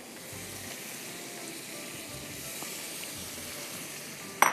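Prawns go into a hot pan with spices and tomatoes, giving a steady close sizzle and hiss of frying, with a sharp clatter at the very end.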